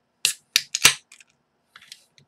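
Opening a can of Henhouse Reptilian Shadow Government double IPA makes three or four sharp, close clicks and snaps in quick succession, followed by a few faint ticks in an otherwise quiet room.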